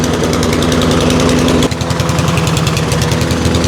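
A lawn mower engine blowing a lot of oil runs loud and close, a rough steady drone that briefly dips and changes pitch partway through, then keeps chugging with no talk.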